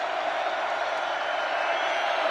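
A loud Iowa State Cyclones football stadium crowd during the Iowa game, a dense steady roar of many voices close and constant, with no distinct cheers or words standing out.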